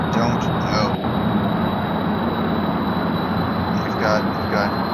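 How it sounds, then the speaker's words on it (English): A six-jet-engine aircraft in Kerbal Space Program flying past the sound barrier, a steady, dense engine roar with a thin high whine, continuous under someone talking. "How we can still hear this plane,"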